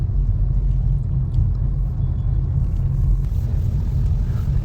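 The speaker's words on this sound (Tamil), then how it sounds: "கொஞ்சம் டிராஃபிக் மட்டும் இந்த இடத்துல மட்டும் இருக்கும்" Steady road traffic rumbles past near Vanagaram fish market, a continuous loud low drone of vehicles with no clear gaps between them.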